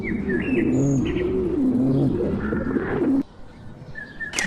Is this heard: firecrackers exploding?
no